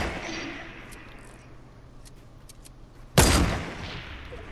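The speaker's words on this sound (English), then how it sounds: "someone's trying to shoot at us" Gunfire in the video game Fortnite, aimed at the players. Faint ticking and background noise lead to one sudden, loud, close shot that rings out briefly near the end, with no talking.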